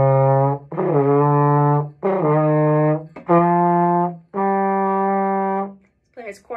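Loud, close buzzing of trombone lip buzzing, five held notes of about a second each separated by short breaks, ending in a brief wavering buzz.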